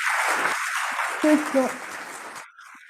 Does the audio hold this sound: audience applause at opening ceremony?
yes